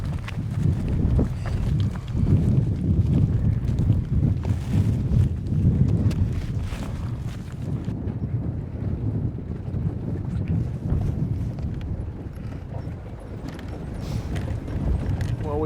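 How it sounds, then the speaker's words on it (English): Strong evening wind blows across the Baja desert, roaring steadily into the microphone as a loud, low buffeting rush that lasts throughout, with no other sound standing out. "It's pretty damn windy, I'll tell you."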